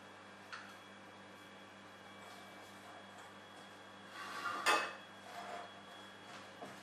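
A spoon scrapes and clinks softly in a bowl while crushed biscuits and walnut butter are mixed into a crumbly cheesecake base, mostly faint with a slightly louder cluster of scraping near the end and no talking.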